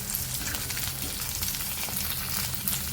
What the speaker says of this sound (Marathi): आपला मसाला भाजते, चेक करून घेऊया.